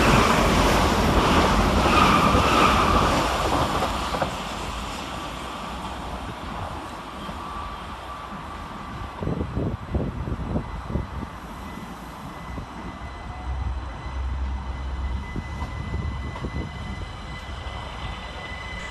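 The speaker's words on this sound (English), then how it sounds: "coming in the opposite direction is 387204 and 387224, working 1 Whiskey 40 for Gatwick Express from London Victoria to Brighton" Class 387 Gatwick Express electric trains pass through Three Bridges station with a loud rushing roar that fades, then rhythmic wheel clatter and squeal over the rails as the carriages go by.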